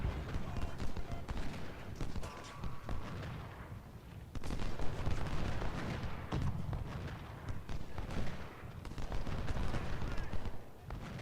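Musket volleys and artillery fire in Ultimate General: Civil War during the Second Bull Run battle, repeated cracking bursts and booming thuds layered over a dense rumbling battlefield bed, continuous and mid-distance.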